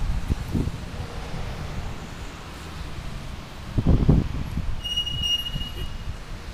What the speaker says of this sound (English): it's a swirling wind, so it's not really going in any particular direction